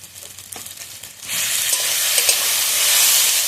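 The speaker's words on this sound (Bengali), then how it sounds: "আদা রসুনটা ভালোভাবে ভেজে নেব।" Ginger and garlic hit a pan of frying onion and tomato for a spicy fish dish, quiet scraping giving way to a sudden loud, sustained sizzle that hisses steadily close up, with no talking.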